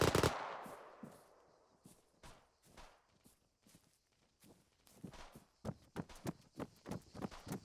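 Gunfire aimed at a vehicle during a night mission in Arma 3, starting with a sharp blast, then sparse scattered shots that build into a quick run of loud, evenly spaced reports near the end.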